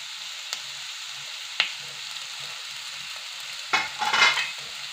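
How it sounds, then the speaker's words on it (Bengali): Rice-flour chowmein is tossed with spices in a pan, faint clinks and scrapes of a utensil, then a short louder burst of stirring and sizzling near the end over a quiet kitchen hush. "এটা মশলাটা মাখিয়ে দিচ্ছি এটা হয়ে গেছে এবার এগুলো দিয়ে দিচ্ছি"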